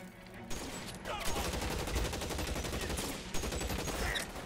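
Rapid bursts of gunfire fill a shootout at a cannery in the video game LA Noire, dense overlapping shots crackling loudly and almost continuously for several seconds.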